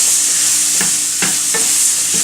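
Zucchini sweats and sizzles in a hot pan, a loud, constant hiss with a few scraping stir strokes of a utensil partway through; no voices.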